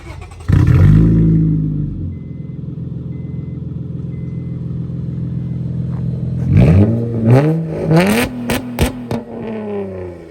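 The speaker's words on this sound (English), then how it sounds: "let me give you a real listen of the legitimate Hellcord exhaust" A car with a straight pipe exhaust starts with a loud bark, idles with a deep rumble, then revs sharply several times in quick, aggressive bursts, close up.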